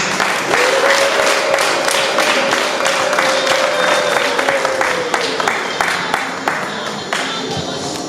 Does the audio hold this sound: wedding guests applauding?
yes